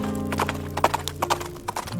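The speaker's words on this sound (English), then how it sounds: "I could hear the hooves on the other side of the lagoon." Horse hooves clip-clop in an uneven trotting rhythm, added as a sound effect in a spooken horror story about a headless rider, close and distinct over a low steady drone.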